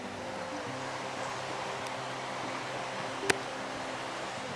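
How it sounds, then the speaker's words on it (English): Flowing water at Coker Creek on a backcountry hiking trail, heard as a steady broadband rush that stays even and fairly close throughout, with one brief sharp click near the end and no talking. "This is Coker Creek."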